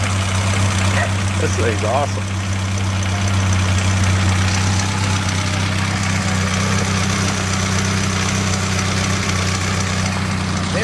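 A small car engine fitted with a fat header idles close by with a steady low rumble and slight tinkling from hotter cams, while people talk over it.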